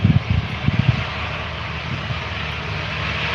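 A Virgin Australia airliner taxiing out at an airport, a steady broad engine rumble and hiss heard from a distance, with a few low thumps at the start and no talking.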